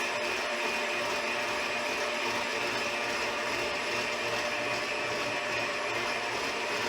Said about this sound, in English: you're going to whisk this until it gets to stiff peaks